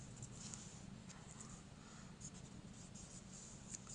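Pen or pencil scratching steadily by hand as an equation for air's specific weight is written out, a soft continuous scrawl with small strokes, close and quiet over a low background hum.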